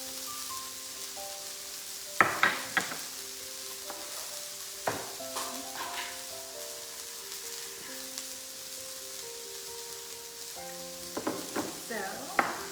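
Patty pan squash and kale sizzle steadily in a pan for breakfast, a soft continuous fry punctuated by a few louder scraping stirs, with no talking.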